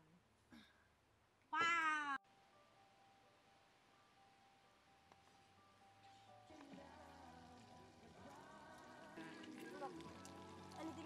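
A cat meows a couple of times at a camping birthday outing, one short cry near the start and a louder, rising meow soon after, followed by murmuring voices and background activity.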